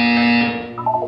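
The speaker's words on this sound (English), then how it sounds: "You will hear a buzzer." Loud, steady electronic buzzer in Portal 2, a single sustained tone with strong harmonics that holds for about a second and then fades, with no talk over it.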